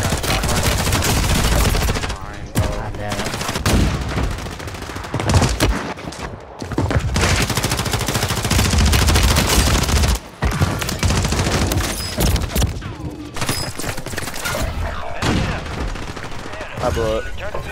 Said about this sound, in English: Oh, I just got shot.